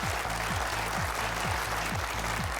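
Audience applause at a high school quiz bowl semifinal, a steady dense wash of clapping that holds at even loudness through the whole stretch, with no voices over it.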